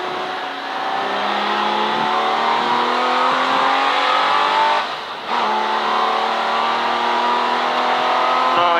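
A V12 race car howls around Silverstone during a modern and future classics club race, the engine climbing loud and strained through each gear with a brief dip at a shift before pulling hard again.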